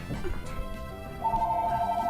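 A phone rings in the Game Boy Advance game Pokemon Emerald during a battle on Victory Road. A short, high, pulsing electronic ring sounds loudly over the game's background music.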